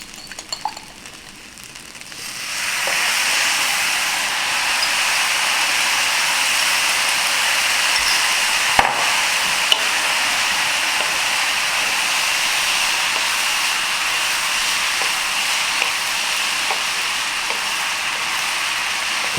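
Sauce poured into a hot pan of pineapple shrimp fried rice sets off a loud, steady sizzle. It swells after a quiet start and hisses on continuously, with a few faint clinks of stirring.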